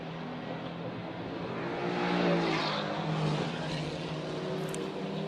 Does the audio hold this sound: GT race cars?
yes